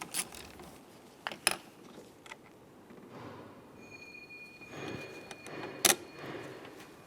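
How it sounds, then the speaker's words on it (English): A 13mm nut and a fuse block are removed from a Nissan Titan, with faint ratchet clicks and metallic clinks, a couple of sharper knocks and some soft rustling, all fairly quiet with no talk. "At this point, we can move along to our top 13mm headed nut. Remove that, and then remove the fuse block."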